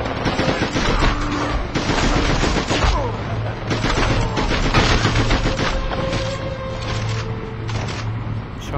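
Rapid gunfire, including shotgun blasts, in the video game SpyHunter: Nowhere to Run, a loud continuous barrage of overlapping shots with engine rumble and mechanical noise underneath.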